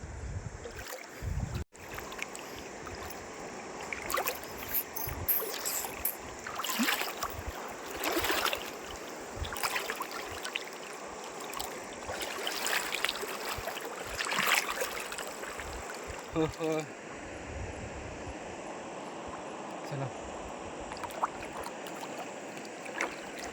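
A rowboat carrying passengers across a river, with water swishing and splashing against the hull and wind buffeting the microphone, steady throughout with brief knocks.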